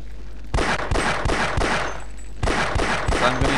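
Bursts of rapid automatic gunfire from Half-Life: Opposing Force, two close, loud volleys of evenly spaced shots separated by a short pause.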